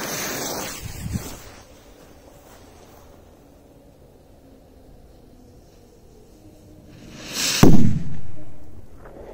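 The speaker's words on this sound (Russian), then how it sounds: "Не, был просто взрыв со вспышкой, но тоже очень мощный, громкий." Two loud firecracker blasts at night, one at the start and a sharper, louder bang near the end, each followed by a rumbling decay and wind noise outdoors.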